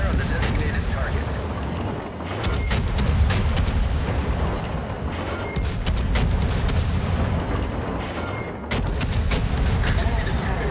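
Naval guns in World of Warships fire in rapid, overlapping booms and cracks over a dense rumbling battle din, while a voice speaks throughout.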